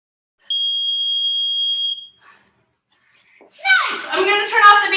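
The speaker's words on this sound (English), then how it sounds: "I'm going to turn off the beeper" A workout timer beeper sounds one long, high, steady electronic tone lasting about a second and a half. A short faint blip follows, then a pause, and then people chuckle and talk nearby.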